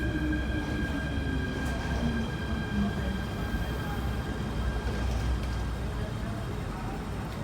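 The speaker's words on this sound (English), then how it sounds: "Okay, another K train." A K subway train at Olympic Station rumbles steadily and loudly up close, with a sustained low roar and thin, whining tones from motors and wheels running throughout.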